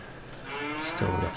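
A Holstein cow moos in the Farming Simulator 22 game, a single drawn-out low moo that rises in loudness toward the end, close and clear, with no talk over it.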